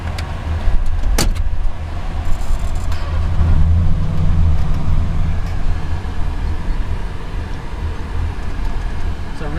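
A 1967 Buick Special rolls along on newly fitted coil springs, a steady close engine and road rumble running throughout, with one sharp knock near the start.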